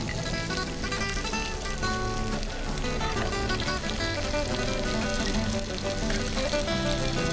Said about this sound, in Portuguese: Vou jogar o meu ovo aqui, ó. E propositadamente vou quebrar esse ovo.